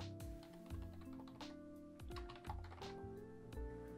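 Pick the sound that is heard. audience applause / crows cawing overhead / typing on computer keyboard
typing on computer keyboard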